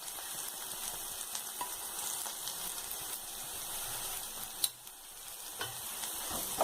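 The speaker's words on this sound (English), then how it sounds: "I'm gonna lightly fry them, and then I'll be adding the pepper powder" Mushrooms fry lightly in a pan for a spicy mushroom Manchurian, giving a soft, steady sizzle at moderate distance with faint stirring and a single sharper clink midway.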